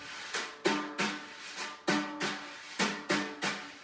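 Snare drum head rubbed in small circles to imitate a güiro, giving eight evenly spaced raspy scraping strokes in a steady rhythm, close and clear with no talk.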